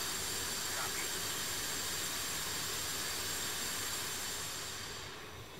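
An F-5 jet in DCS World taxiing to the runway at Nalchik airport gives a steady, droning turbine whine with a high tonal hum, constant and moderately loud, fading slightly at the end.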